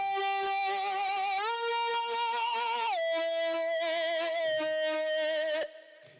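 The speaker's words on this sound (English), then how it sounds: "The first one in particular is the Effin' Rockstar." Effin' Rockstar, a Serum lead patch from the Doomsday pack, holds a buzzy, harmonically rich sustained tone with slight vibrato, stepping between a few held pitches before cutting off, loud and alone.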